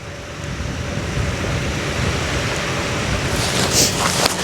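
Surf washes onto the beach at Hamble with a broad, continuous roar mixed with wind buffeting the microphone, fairly loud and close, with a brief brighter splash toward the end.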